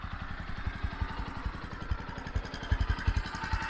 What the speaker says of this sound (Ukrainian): Послухайте, яка робота мотора. Вона просто монотонно одинаково, без всяких дьоргань, рівків, без плавань обертів.